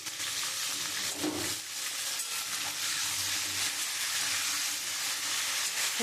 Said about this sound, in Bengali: আমি এখন পটলগুলো লাল লাল করে আমি একটু ভেজে নেব।